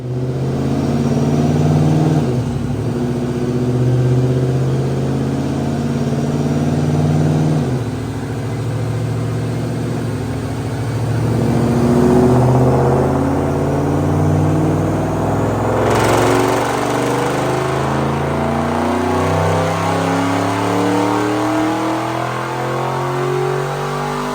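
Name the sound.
2006 Ford Mustang GT supercharged engine revving on dyno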